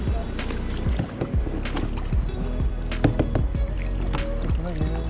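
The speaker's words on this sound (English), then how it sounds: "we are kayaking" Kayak paddles dip and splash through the sea on a beach day at Fujairah, with irregular near strokes and water sloshing, and some voices talking over it.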